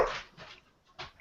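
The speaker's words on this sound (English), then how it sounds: "Sorry about the dogs, guys." Dogs in a room give a few short whimpering yelps, three brief bursts in quick succession, fairly close but quiet.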